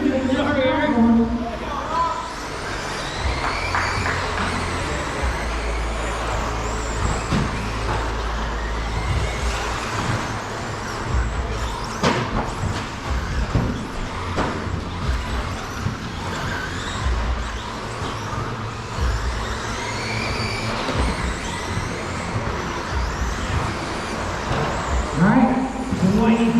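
13.5 stadium RC trucks racing around a track in the final minute, a steady whine of small electric motors and tires on dirt, with an announcer talking over the action throughout.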